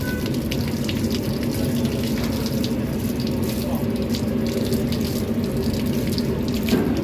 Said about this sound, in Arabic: هنشطفها بس شطفه ميه خفيفه كده.